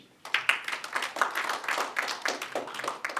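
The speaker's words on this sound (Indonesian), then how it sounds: "Aplaus dulu untuk SPC." An audience at a property consulting seminar claps in a warm burst of applause, a dense patter of many hands after a quiet start that holds steady for a few seconds.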